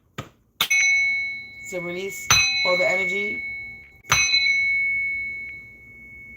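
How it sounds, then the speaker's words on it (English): A small hand bell rings three times, each bright ding ringing out and decaying slowly, with a person speaking between the strikes. "But I will ring this bell real quick"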